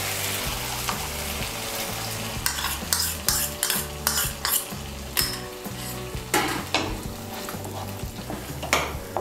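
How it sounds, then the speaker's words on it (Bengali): Sour yogurt is stirred into masala frying in a pan: a steady sizzle under rhythmic scraping strokes and repeated clinks of a spoon on the pan, close up, with no talking. "টক দইটাকে ভালো করে মিশিয়ে নেব।"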